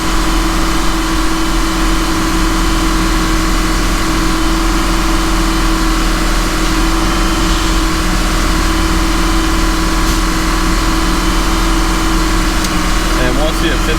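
A Lamborghini Huracan engine runs held under throttle during an oil check, a steady loud drone close by with a constant low hum that continues unbroken throughout.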